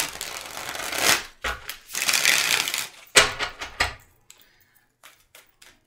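Tarot cards shuffled by hand in a few quick riffling bursts, close and crisp, with short gaps between and quieter flicks trailing at the end.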